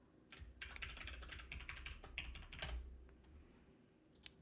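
Rapid keystrokes on a computer keyboard as a password is typed, a quick irregular burst of clicks followed by a few isolated taps, nearby and fairly quiet.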